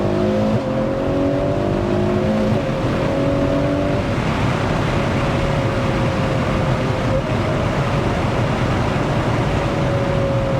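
A Ferrari 812 GTS engine at full song, pulling hard with rising, revving harmonics that step between gears on downshifts, loud and continuous throughout with no talking.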